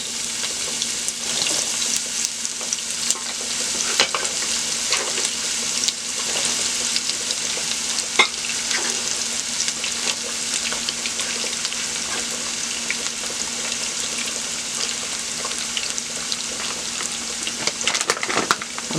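Yellow onions sizzling in leftover fish-frying oil, a steady close hiss of frying with occasional pops and crackles that runs unbroken for the whole stretch, with no talking over it.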